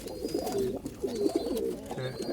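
Rooftop pigeons of a Mian Nazir bloodline coo in repeated throaty, rolling phrases, several calls in a row at close range with little else around them.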